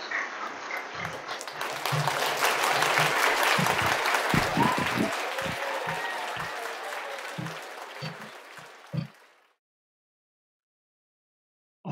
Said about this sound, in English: Let's invite him with a big round of applause